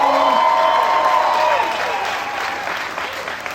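A large outdoor crowd at an AIDS Walk opening ceremony breaks into dense, sustained applause mixed with a few cheers, loud at first and slowly tapering over a few seconds.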